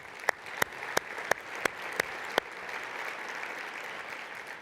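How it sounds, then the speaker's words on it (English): An audience applauds faintly and at a distance, with a string of sharp, evenly spaced claps standing out over a soft, diffuse patter of hands. "Let's give them all again another round of applause."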